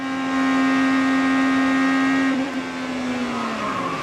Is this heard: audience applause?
no